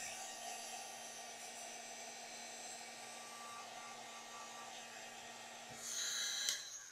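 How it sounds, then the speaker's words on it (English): A heat gun blows hot air to dry paint on an upcycled Dollar Tree piece, making a steady whirring hiss at moderate level with a constant motor whine that grows louder and harsher near the end. "I am just going to turn on my heat gun, and I'm going to dry this paint real quick"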